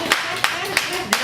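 Sharp, evenly spaced claps from a few pairs of hands, four distinct strikes in quick succession, fairly close and moderately loud.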